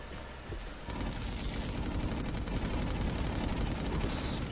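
Rapid, continuous gunfire from Infamous Second Son, a loud, dense stream of repeated shots that starts after a brief lull and keeps hammering without pause to the end.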